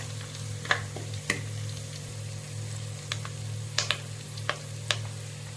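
Garlic, cumin and curry leaves sizzle steadily in hot tempering oil, a constant frying hiss with a few sharp clicks and scrapes of stirring scattered through, close and fairly loud.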